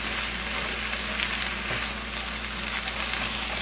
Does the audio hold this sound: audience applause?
no